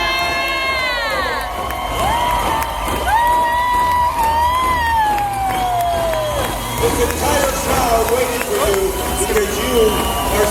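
A crowd cheers finishers at an Ironman triathlon finish line, with loud continuous shouting, whoops and whistles, and a voice talking over the din.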